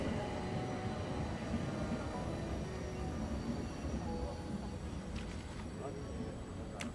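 A train rumbles steadily at a main terminal, a low continuous rolling roar with faint metallic clanks near the end, while voices speak over it.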